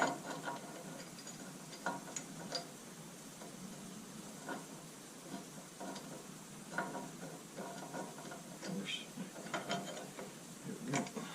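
Ratcheting on a bolt during repair of a John Deere JD480 forklift: quiet, irregular mechanical clicks and short bursts of pawl clatter repeat across the clip over a low background hum, with no talking.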